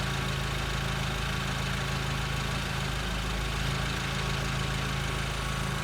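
An engine idles steadily under reduced pressure, first lowered to about 2 bar, with a low, even hum that holds throughout and only a slight dip and recovery near the middle, close and continuous with no talking.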